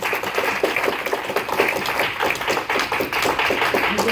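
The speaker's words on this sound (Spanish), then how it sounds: "Tenemos un aplauso fuerte a Rey de Reyes, Señor de" A church congregation applauding, lively dense clapping from many people in a fast, uneven rhythm, loud and sustained throughout with no speech over it.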